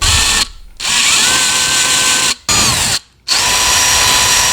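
A power tool drives bolts into the radiator fan bracket of a Mitsubishi Evo 9 Special Edition, giving loud, close whirring bursts with short pauses between them.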